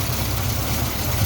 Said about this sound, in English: Makes engine noises at the front, albeit quietly